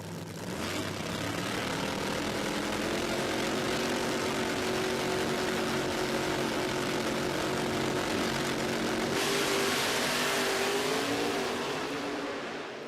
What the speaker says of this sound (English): Brad Anderson Engineering 521 supercharged power plant under the Chevy Camaro body skin